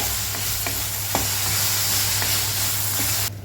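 Chilli and tomato masala for Karaikudi chutney sautés with a steady, close sizzle, with a few soft stirring scrapes over a low hum, until it cuts off abruptly near the end.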